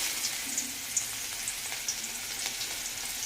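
Onions sizzle in hot oil in a pan, a steady crackling hiss with small pops and light stirring, close and fairly quiet, with no talk.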